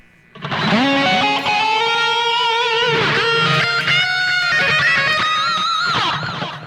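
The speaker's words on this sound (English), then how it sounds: "Turn the distortion back on." Electric guitar driven through a Boss DS-1 distortion pedal and a Boss eBand JS-10, chasing a hard-rock tone: loud, sustained, harmonically rich distorted notes and bends played close with no talking.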